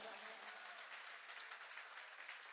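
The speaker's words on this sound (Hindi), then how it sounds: "बजाओ तालियां।" An audience claps steadily at a Jain monk's religious discourse, a brief, fairly faint patter of applause that holds evenly throughout.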